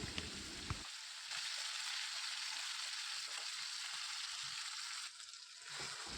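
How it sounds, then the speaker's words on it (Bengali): Spice paste hits hot mustard oil in a wok for a fish curry, bursting into a loud, steady sizzle that continues evenly with a slight dip near the end, with no talk. "কড়াইয়ে সরিষার তেল দিয়ে দিচ্ছি পরিমাণ মতো তো তেলটা খুব ভালো মতো গরম হয়ে গেলে পেস্ট করে রাখা মশলাটা দিয়ে দিচ্ছি"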